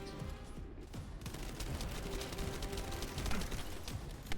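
Rapid gunfire from an assault turret in the video game The First Descendant, a steady stream of sharp shots layered over dense game noise and effects throughout.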